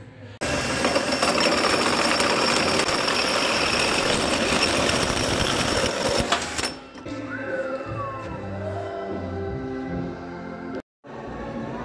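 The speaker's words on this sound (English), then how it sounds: "I'm just gonna notch both sides on this tube" A steel tube is notched on both sides to make a support bracket for a Nissan Frontier rear bumper. A loud, continuous grinding roar runs for about six seconds, then cuts off to lower, uneven mechanical noise.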